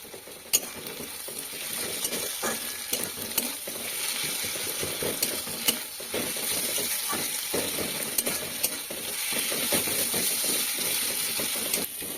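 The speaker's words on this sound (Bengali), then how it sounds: "আদা রসুন বাটা দিয়ে কিছুক্ষণ নাড়াচাড়া করার পর" Ginger and garlic paste fries in a pan for chicken kosha while being stirred, a continuous close sizzle with repeated scraping and clicking of the spatula throughout, moderately loud and without talking.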